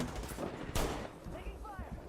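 Gunfire in an Apex Legends battle royale match, a burst of shots with one sharp loud crack amid steady background game noise, with a voice talking over it.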